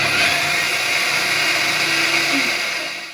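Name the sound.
mixer grinder grinding finger millet (ragi)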